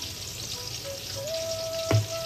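Hot mustard oil in a wok gives a continuous, close sizzle and crackle. A thin, steady whine rises partway through, and a short pop follows near the end.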